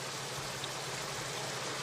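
Steady rain falls in a wartime battle setting, a faint, even hiss of water with no other sounds or voices.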